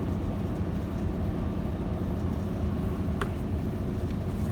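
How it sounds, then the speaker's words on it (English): Engines of an ice breaker ship at Abashiri, Hokkaido, rumble low and steady before departure, a constant deep drone with one brief sharp clink partway through. "I can hear the engines revving up."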